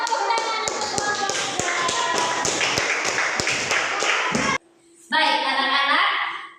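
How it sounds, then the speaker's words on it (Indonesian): Children in a classroom clap for a group during a coding lesson, a brisk run of sharp, close hand taps with young voices chattering underneath, then a brief pause before shouting and noisy chatter rise again. "tepuk tangan untuk kelompok"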